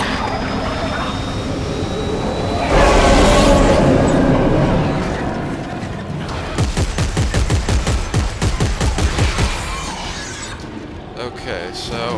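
A plasma cutter in Dead Space 3 fires a rapid burst of about a dozen sharp, evenly spaced shots after a loud whooshing rumble, someone talking under the game sounds.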